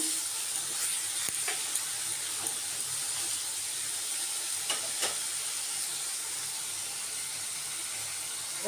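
Snake gourd frying with grated coconut in a pan gives a steady close sizzle throughout, with a few faint scrapes of stirring and no talk.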